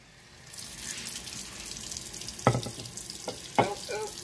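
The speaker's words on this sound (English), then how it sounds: "I'm just going to add water and see what happens" Tap water poured from a faucet onto a compressed towel, a steady soft splashing trickle with a few sharper splashes near the end, close by and alone.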